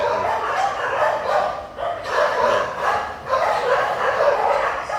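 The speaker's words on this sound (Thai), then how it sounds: "โอ้หมาเห่า" A dog keeps barking and yipping nearby in rapid repeated bursts, loud and steady over the whole stretch with brief dips between volleys.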